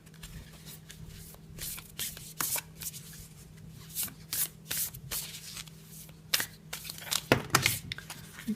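A tarot deck shuffled close up in soft, continuous rustling and riffling, with quick flicks and a few louder slaps near the end, fairly quiet and without talking.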